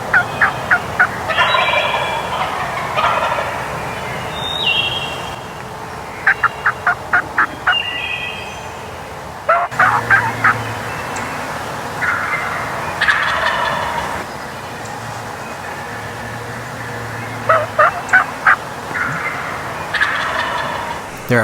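Wild turkey gobblers gobbling at dawn during a spring turkey hunt, with three toms near a decoy; repeated loud rattling gobbles come in bursts from close and farther birds over steady outdoor ambience.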